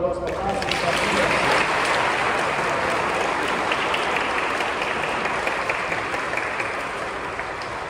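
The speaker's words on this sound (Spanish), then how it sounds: "Un aplauso para los papás y familias." Sustained applause from a sizable congregation at a church Mass, steady and dense throughout, slowly tapering slightly toward the end.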